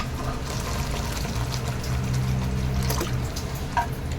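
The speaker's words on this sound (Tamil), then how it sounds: "இப்போ நான் ஒரு 300 ml தண்ணி சேர்க்க போகிறேங்க" Water poured into a cooking pot of masala sundal made with boiled peas: a steady, continuous trickling pour at moderate, close level, with no talk.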